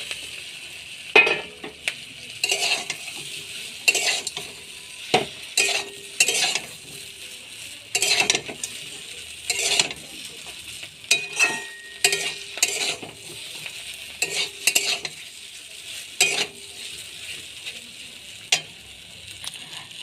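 Boiled pasta gets tossed in a frying pan, a soft continuous sizzle punctuated by repeated sharp scrapes and clinks of a utensil against the pan in an irregular stirring rhythm.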